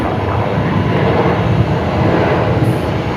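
Boeing 747 landing at Brisbane Airport, a steady, loud broadband jet roar that holds evenly throughout with no voices.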